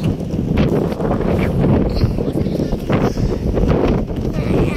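Wind buffets the microphone in a continuous low, rough rumble that stays loud and steady throughout.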